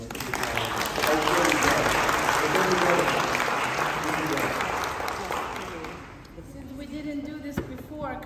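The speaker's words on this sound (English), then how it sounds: "applause to Petros for everything he did." Audience applause inside a cathedral at a choir awards presentation, sustained and fairly loud clapping for about six seconds that fades, followed by quieter scattered claps and murmuring voices.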